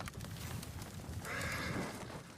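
A horse in the video game Ghost of Tsushima whinnies partway through, a drawn-out neigh over soft, muffled hoof-like clatter in the background.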